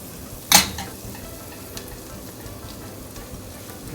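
Garlic and corn fry in a pan with a soft, constant sizzle, punctuated by one sharp, loud clatter near the start like a utensil striking the pan, then faint stirring scrapes.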